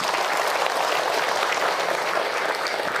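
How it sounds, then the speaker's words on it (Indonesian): Congregation applauding during an Islamic religious talk, a dense, even patter of many hands clapping that holds steady for a few seconds, moderately loud and without speech. "Bagi tepuk tangan untuk Hilman."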